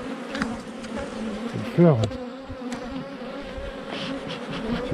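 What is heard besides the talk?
honeybees buzzing while beekeeper handles hive frames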